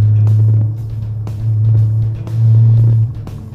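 Lowered car with upgraded wheels, its engine revving in repeated deep rumbling surges, close and loud, with brief drops between the three main pulls and a few sharp clicks.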